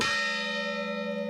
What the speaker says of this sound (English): The mission bells are still used today on special occasions, such as St. Joseph's Day